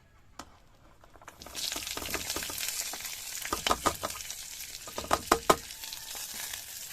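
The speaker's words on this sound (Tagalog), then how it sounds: "igisa ko na lahat to" Food sautés in a hot pan, a bright steady sizzle bursting in as ingredients hit the oil, then repeated scraping stirs and clacks of a utensil over the frying hiss, close and with no voices.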